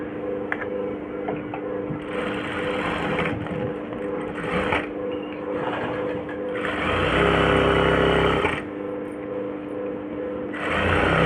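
A sewing machine stitches a garment sleeve in a tailoring setting, running steadily up close with short pauses and a louder, faster burst partway through.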